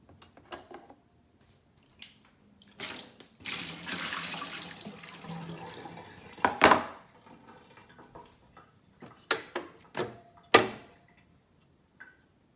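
A Delonghi Nespresso Lattissima Touch pod machine runs a rinse cycle, giving splashing, running water in bursts broken by short clicks and knocks, close by and uneven in loudness.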